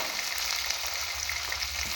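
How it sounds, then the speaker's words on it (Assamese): Chopped onion and green chilli fry in hot oil for a bowali fish curry, giving a dense, steady, close-up sizzle with no talking. "তেল গৰমত পিঁয়াজ জলকীয়া দি"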